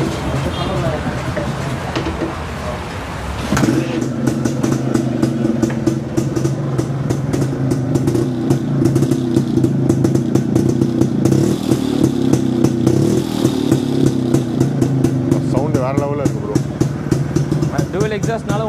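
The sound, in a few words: 1979 Yezdi Classic motorcycle dual exhaust engine running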